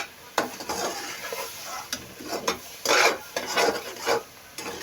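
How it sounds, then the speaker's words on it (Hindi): Semolina sweet stirred continuously in a pan while it cooks, with repeated scraping strokes of a spoon against the pan coming in irregular bursts close by, over a faint background hiss. "इसे मुसलसल हिलाते हुए पकाएंगे ताकि इसमें किसी तरह के लम्स वगैरह ना बन जाए।"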